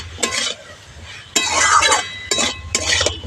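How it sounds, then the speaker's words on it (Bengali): Stirring and mixing green tomato curry ingredients with salt in a pan: three bursts of scraping, clinking stirring strokes with a faint sizzle, separated by short pauses, close and moderately loud. "সব কিছু একসঙ্গে খুব ভালো করে মিশিয়ে নেব।"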